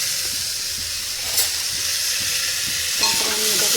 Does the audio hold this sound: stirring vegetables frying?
yes